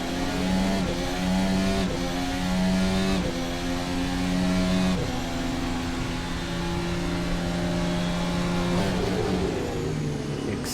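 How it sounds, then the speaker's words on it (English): Formula 1 race cars lapping the Helsinki street circuit in the Assetto Corsa racing game, their high-pitched engines screaming loudly and continuously with gear-shift pitch drops and overlapping cars passing close by. "I am mesmerized by the sounds of these cars as they go around this Helsinki iconic circuit."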